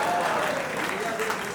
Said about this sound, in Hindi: एक बार दोनों के लिए आप जोरदार तालियां।